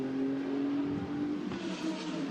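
A BMW GT race car at Spa during a 24-hour endurance race, a distant engine drone with a steady tone that rises slightly then fades as it passes, fairly faint.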